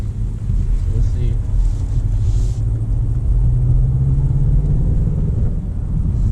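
A 2021 Mazda 3 Turbo with all-wheel drive, driven in normal mode, gives a steady loud cabin drone of engine and road rumble with a slowly rising engine pitch and some wind noise.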